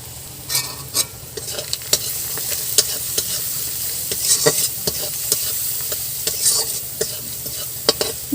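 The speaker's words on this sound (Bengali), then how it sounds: "প্রথমে পেঁয়াজটা একটু ভাজা ভাজা করে নেব।" Chopped onions fry in hot oil with white cumin, salt and turmeric, a continuous close sizzle broken by repeated scraping stir strokes of a spatula in the pan.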